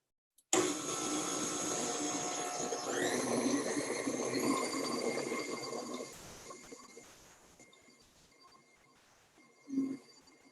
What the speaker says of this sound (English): now we're gonna continue mixing